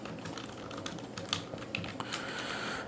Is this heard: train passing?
no